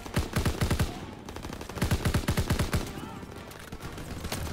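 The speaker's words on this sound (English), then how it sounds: "Yo, who's shooting at me?" Rapid bursts of automatic gunfire in a World War II shooter game, several quick strings of shots in a row with short pauses between them, loud and close, while a player talks.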